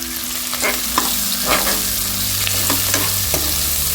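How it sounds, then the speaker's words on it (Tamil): Onions and green chillies sauté in a pressure cooker for mint rice, giving a steady close sizzle with a few spoon scrapes and clinks against the metal, and no voices. "கொஞ்சம் வதங்கின போது வெங்காயம் அதிகமாக வதங்க வேண்டியதில்லை"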